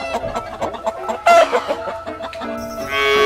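Farmyard chicken clucking in a busy, close burst of short calls, with a brief louder squawk and a rising cackle toward the end.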